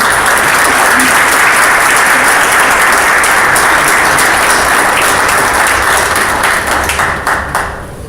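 An audience at a police recognition event breaks into loud, dense applause for an officer, sustained and close, thinning slightly toward the end.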